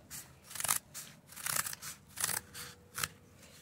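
Scissors snip through heat shield material, cutting it into a circle for a Mercedes GLK 350 X204 motor mount; several crisp, crunchy cuts come close and loud in an uneven rhythm, with no talk.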